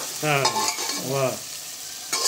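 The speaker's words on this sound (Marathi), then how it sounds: "ते असं छान तेलात ना परतून घेते बघा" Masala is sautéed in oil for Kolhapuri dry mutton, with a steady close sizzle and soft stirring scrapes. A brief tonal whine rises and falls beneath it.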